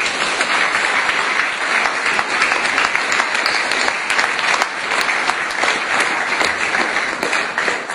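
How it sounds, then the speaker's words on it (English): Loud, dense audience applause fills the room at a community ceremony, steady and unbroken for the full eight seconds, with no talk over it. "Give them a big round of applause too."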